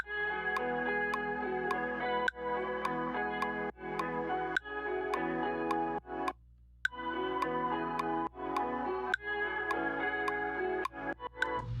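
Sampled guitar chord progression in a remix drop, plucked chords struck in a steady rhythm with bright ringing tails over a sustained low bass, a brief gap near the middle, loud and upfront with no voices.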